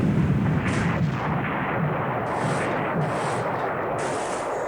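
Naval gunfire and shell hits on a ship in the War in the Pacific naval wargame, a continuous rumbling barrage with several sharper bursts breaking through at intervals, loud and close with no voices.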